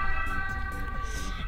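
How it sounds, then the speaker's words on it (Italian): An ambulance siren passes by, a loud, wailing tone held steadily over a low rumble of traffic. "l'ambulanza che passa"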